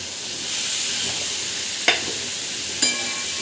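Lotus root and spices fry in oil in a pan, giving a steady close sizzle. Two sharp scraping clacks from stirring break through the hiss.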